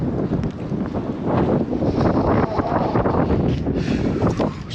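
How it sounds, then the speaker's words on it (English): Strong wind blows outdoors on a fishing outing, buffeting the microphone in a continuous loud roar with gusting swells throughout. "I don't know if you guys can hear me, it's pretty windy out."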